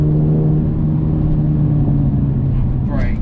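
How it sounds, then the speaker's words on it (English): Mercedes-Benz A35 AMG engine on a downshift, a loud, steady in-car engine drone and rumble that holds throughout, with a brief rise near the end. "drop it down a gear"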